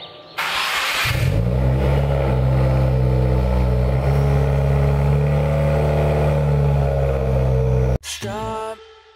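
A car engine fitted with a Cobb cat-back exhaust, Cobb 3-inch downpipe and equal-length headers starts up, then holds a loud, steady rumbling idle and rev close by for about seven seconds before cutting off abruptly, followed by a brief burst of other noise.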